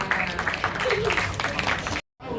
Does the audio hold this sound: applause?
yes